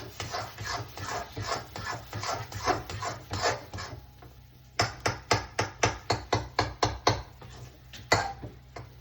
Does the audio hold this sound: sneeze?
no